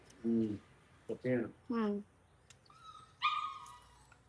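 A dog at home gives a few short barks and yips followed by a higher whimpering whine, close by and fairly loud in short bursts with quiet gaps between.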